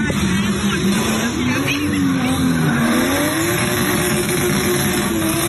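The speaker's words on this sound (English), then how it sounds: "The two cars that we saw separately are now drifting together." Two cars drift together down a street in Jamaica. Tires squeal loudly and engines rev hard, forming a close, continuous roar with a wavering engine tone throughout.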